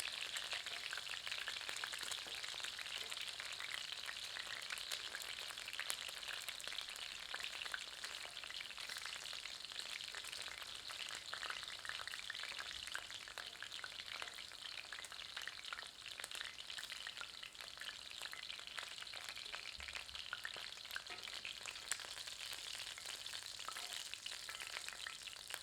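Chicken pieces fry in hot oil for a Kashmiri yogurt chicken curry, a steady, even sizzle and crackle that carries on unbroken with no voices.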